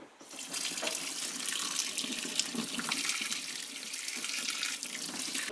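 Hot water from kettles pours into a washing machine aboard a narrow boat, a steady close splashing gush with no speech.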